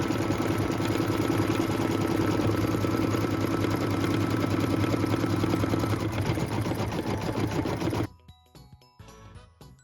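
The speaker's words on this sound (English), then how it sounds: "it does some stitches to show you where it's going to stitch, and then it does some underlay, and then it does that beautiful satin stitch" An embroidery machine stitches a satin stitch around an appliqué barn, a dense, steady mechanical whirring with a rapid needle rhythm, loud and close, that stops abruptly near the end, leaving faint clicks and handling noise.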